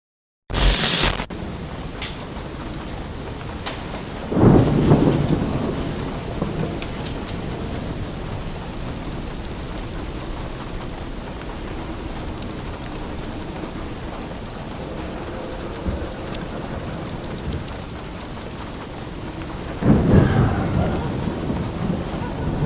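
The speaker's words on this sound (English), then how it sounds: "Storm's pretty bad out there." Heavy rain pours steadily through a thunderstorm, with loud rumbling thunderclaps near the start and again toward the end over a constant dense hiss of rainfall.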